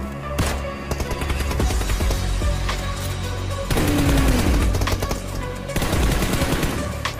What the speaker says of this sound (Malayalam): സ്നൈപ്പർ ഷോട്ട് ഭയങ്കര ഇഷ്ടമായിട്ടോ